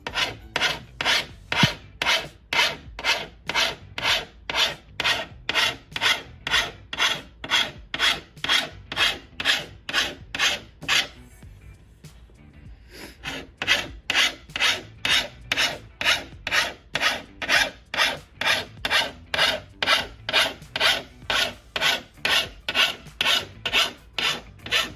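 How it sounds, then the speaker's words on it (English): Steady, rapid back-and-forth rasp of a file on glass for a paint-protection and ceramic-coating job, loud and close, with dozens of regular even strokes, a brief pause midway, then the same rhythm resuming, with no talking. "that sort of fingernail on chalkboard sound, you may want to mute it while I'm filing"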